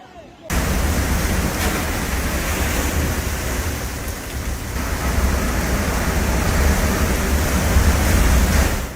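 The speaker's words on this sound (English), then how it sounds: "Powerful waves like these are becoming increasingly common." Powerful ocean waves crash and surge in a continuous loud roar of surf that swells again toward the end, with no clear talk over it.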